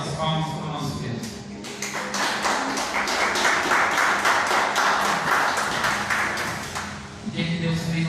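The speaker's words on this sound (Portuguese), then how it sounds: "Vamos receber ela com as palmas para o nosso Deus." A church congregation claps to welcome a woman up to give testimony, loud sustained rhythmic clapping in a reverberant hall, with speech before and after the applause.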